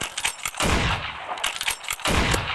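Gunfire in a mobile shooting game, with a handful of sharp synthetic shots and bursts, close and loud, followed by dense crackling blasts and a clang-like hit, with no talking.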